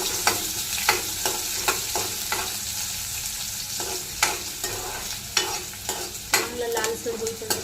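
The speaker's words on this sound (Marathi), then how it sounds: "लालसर होईपर्यंत थोडासा कांदा भाजायचा" Chopped onion frying in hot oil for a tempering of mustard seeds and cumin, a steady close sizzle broken by repeated stirring scrapes of a spatula in the pan, no voices.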